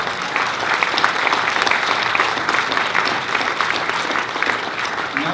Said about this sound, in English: Can you please just have another round of applause for that guy?